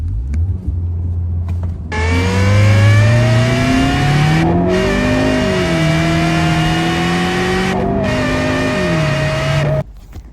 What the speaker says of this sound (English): this is launch control, my 2014 Ford Focus